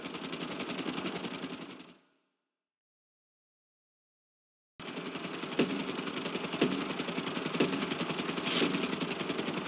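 A helicopter in GTA V thrums with a dense, steady rotor chop, cutting out to total silence for nearly three seconds before resuming at full strength.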